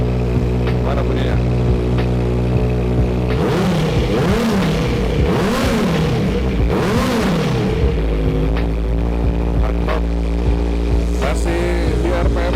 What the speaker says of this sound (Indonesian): Habis itu coba kita gas.